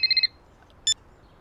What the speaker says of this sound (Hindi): हाय हाय, हां ए चित्रगुप्त फोन उठा।